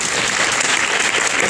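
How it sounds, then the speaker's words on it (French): Audience applause at a final-presentations event of a hackathon forum, a dense, steady clapping that fills the whole short stretch at close range with no voices over it. "Est-ce qu'on peut applaudir ?"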